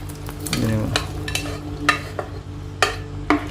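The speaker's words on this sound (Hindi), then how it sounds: "चने डाल दिए जी इसमें" Boiled chickpeas tipped into hot sizzling masala for Mumbai-style ragda chaat, with a loud steady frying hiss, a burst of stirring scrapes early on and several sharp spoon knocks against the pan.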